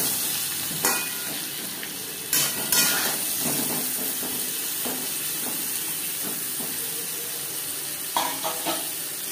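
Stuffed potatoes for aloo dum, seasoned with salt and turmeric, fry in a covered pan over a low gas flame. A steady sizzle runs throughout, with a few louder clatters and bumps.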